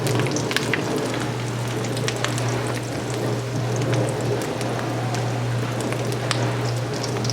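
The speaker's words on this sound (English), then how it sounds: "I have the coconut oil heated up on medium heat temperature, and I'm just slowly flipping as I go" Jalapeno poppers fry in coconut oil heated on medium, giving a steady close crackling sizzle with scattered pops and a low constant hum beneath, with no talking.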